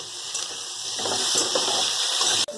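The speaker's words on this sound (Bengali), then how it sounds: "এবার এর মধ্যে আমি জল অ্যাড করব" Water pours into a pan of fish roe curry, a steady close splashing and hiss over the simmering spices, ending with a brief clatter.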